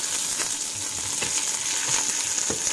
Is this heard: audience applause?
no